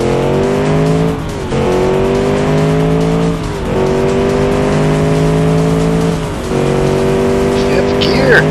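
Car engine in BeamNG driven with gentle throttle, revving steadily through gears with pitch climbing and dropping at each shift, loud and close, ending with a brief tire squeal.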